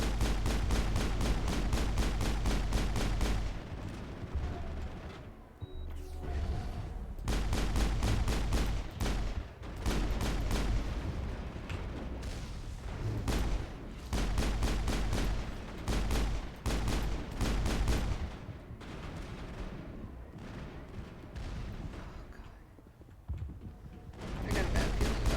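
Heavy turret gunfire from the sci-fi shooter game Mass Effect: dense, loud bursts of rapid fire hammering almost continuously, with brief lulls between volleys and a low rumbling bed beneath.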